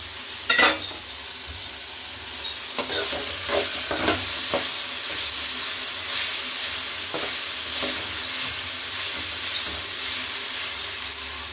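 Vegetables with salt stir-fried in a pan for fried rice, a steady close sizzle with scraping stirs and clatters of the spatula, loudest near the start and continuing evenly.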